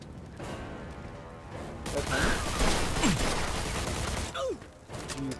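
Gunfire and crashing impacts in a Mafia 2 shootout, a dense burst of shots and smashing debris swelling after a quieter start, loud and close, with brief voices.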